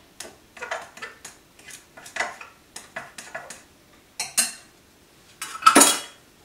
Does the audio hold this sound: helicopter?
no